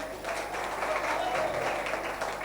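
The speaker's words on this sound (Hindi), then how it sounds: "जोरदार तालियां।" Enthusiastic applause from an audience at a religious gathering in Bholanath Nagar, Delhi, a short burst of dense clapping throughout, loud and close, with some crowd murmur.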